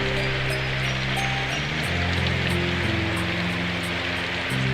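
Rain falls steadily in Symphonic Rain, a dense continuous hiss of drops on surfaces, fairly loud and unbroken, layered over sustained low musical tones with no talk.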